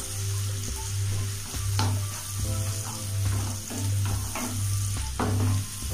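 Onions and green chillies sautéing in oil while being stirred, a steady frying hiss with repeated spoon scrapes against the pan and a low rhythmic rumble underneath.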